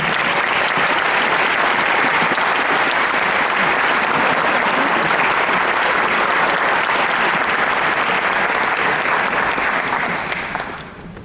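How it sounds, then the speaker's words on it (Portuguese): An audience at an evening talk bursts into loud, sustained applause that holds steady for about ten seconds before thinning out at the end. "Por favor, aplaudam César Nunes."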